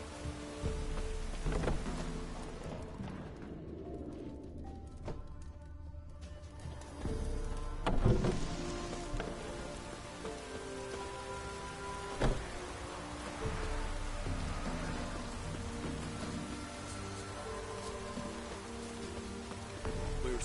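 Heavy rain pours down in The Witcher 3 game world, a steady dense hiss broken by a couple of sharper knocks and a faint distant rumble, with no voices.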